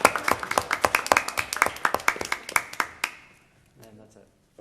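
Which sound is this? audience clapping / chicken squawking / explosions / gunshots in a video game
audience clapping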